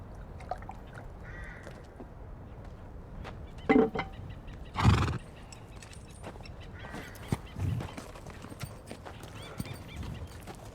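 Thakur's horse heard in a short sharp neigh and a brief whinny amid quiet outdoor ambience, with hoof clip-clop and crows cawing around it and no talk.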